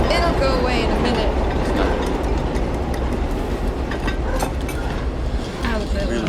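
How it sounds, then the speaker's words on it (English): A subway train rumbles past in a city movie scene, a loud continuous roar with rhythmic clattering of wheels on rails and metallic rattles filling the whole stretch, with a voice briefly audible under it. "Subway. It'll go away in a minute."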